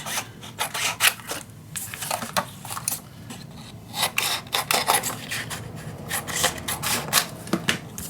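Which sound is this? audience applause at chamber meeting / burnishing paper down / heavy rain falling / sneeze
burnishing paper down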